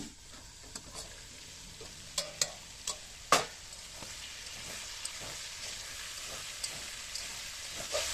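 A spoon stirs chicken and potatoes in a pan under a lid that has just been lifted. Scattered light taps and scrapes ride over a faint continuous sizzle, with one sharper clink, all quiet and close.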